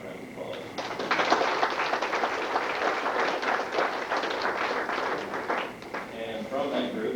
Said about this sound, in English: Let's get those 49 animals, 9 round of applause.